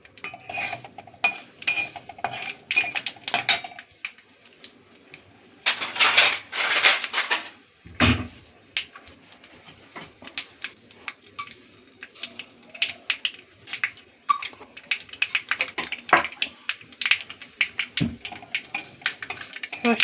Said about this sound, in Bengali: চড়মড় করছে, ভাজা হচ্ছে